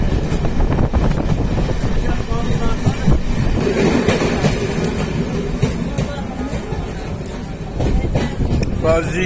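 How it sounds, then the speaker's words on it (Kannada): A loud, enclosed rumble of a train moving at speed through a tunnel in Jammu and Kashmir, with rattling and rushing air filling the space, steady from start to finish. "ಆ ಟನಲ್ನಲ್ಲಿ ನಮ್ಮ ಟ್ರೈನ್ ಬಂತು"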